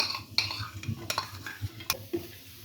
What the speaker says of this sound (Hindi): अब इसमें शामिल करेंगे 2 टेबलस्पून चॉप किया हुआ बारीक लहसुन